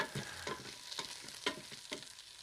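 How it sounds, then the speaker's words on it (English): Brussels sprouts sizzle faintly in a Ninja Foodi after six minutes at 390 degrees, a soft steady crackle punctuated by several rhythmic scraping stirs and knocks as they are moved about. "if you can hear them, they're sizzling a little bit"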